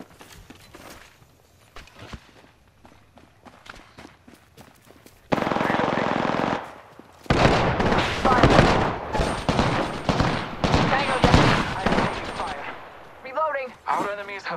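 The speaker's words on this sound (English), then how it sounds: "Shots fired at me" Gunfire in the Apex Legends video game erupts midway after quiet footsteps, with rapid automatic bursts and sharp single shots, loud and close, broken by short gaps, while a player talks over it.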